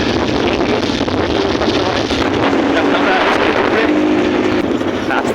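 A vehicle engine hums steadily while riding along a hill road near Kalijora Dam, buried in heavy wind buffeting on the microphone, with a person talking throughout.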